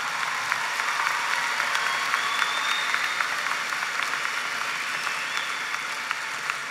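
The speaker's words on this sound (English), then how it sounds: "That deserves an applause." Steady applause fills a high school graduation ceremony at Sunset High School in Dallas, a large audience clapping continuously at an even level from start to finish.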